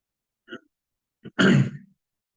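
A small cough, a brief faint burst followed by a stronger, rougher throaty one, close up with no talking.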